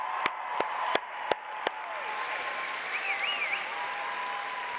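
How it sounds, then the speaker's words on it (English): An opening-ceremony audience at a science research competition applauds steadily for about five seconds, a few sharp claps standing out at the start over a dense, even wash of clapping. "Let's give a big round of applause to that."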